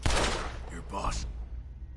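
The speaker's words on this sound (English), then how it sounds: "I pulled out my gun and shot again." Gunfire from Red Dead Redemption 2: a loud burst of shots at the start, with a second report about a second later, trailing into rumbling echo and game background noise.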